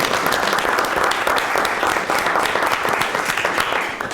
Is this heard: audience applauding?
yes